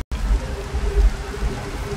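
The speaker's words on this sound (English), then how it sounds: "oh wait, no, the rain hasn't stopped" Steady video game rain in Minecraft patters continuously, with a low rumbling wash underneath and no talking.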